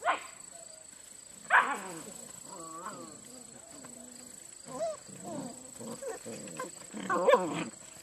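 A puppy whimpers and yips in short bursts at close range, mixed with people talking softly around it.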